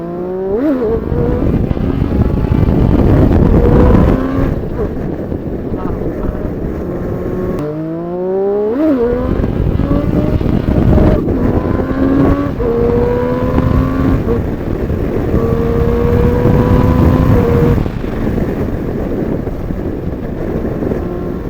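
A Triumph Street Triple RS motorcycle with traction control off revs hard and loud, the engine climbing through gears in repeated rising pulls with brief drops between shifts.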